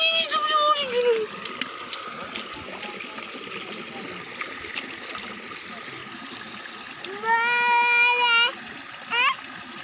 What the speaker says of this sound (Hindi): वो देखो पानी आ रहा है